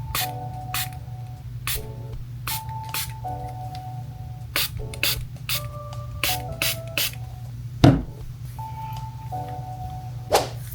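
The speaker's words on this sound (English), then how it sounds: "We're gonna spray." Spray bottle misting during a DIY piercing aftercare routine: a series of short, sharp hissing spritzes, separate pumps with gaps between them, near and clear over a steady low background hum.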